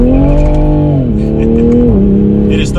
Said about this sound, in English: my tires are spinning